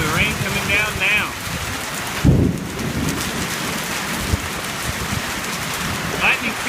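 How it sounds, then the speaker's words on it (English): Steady rain hisses down during a Northeast Texas thunderstorm, with a sharp close thunder crack partway through and low rumbles beneath the dense, constant patter. No voices are heard. "The rain coming down now."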